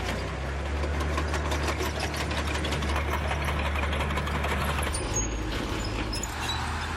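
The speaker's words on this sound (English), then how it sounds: "They're gathering as many authentic tank sounds as possible." A German StuG III tank's modern engine idles steadily with a deep, rumbling throb and rapid mechanical knocking, loud and close, running continuously throughout.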